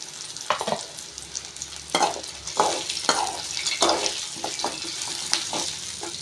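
Roasted gram and tamarind frying on low flame in a pan for chutney, with soft sizzling and a series of spatula stirs and scrapes, close by and alone.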